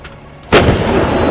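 An artillery gun fires a single loud, close shot that bursts out suddenly and rumbles on into a long fading boom.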